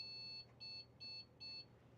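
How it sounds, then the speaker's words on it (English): Computer POST beeps during PC diagnostics at startup: four evenly spaced electronic beeps, each about a fifth of a second, clear and moderately loud over a faint background hum. "One single beep, which is good."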